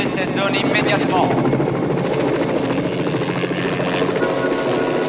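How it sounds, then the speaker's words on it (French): A nearby helicopter's rotor chop drones loudly and steadily, with French-speaking voices talking over the continuous engine noise. "C'est un hélicoptère."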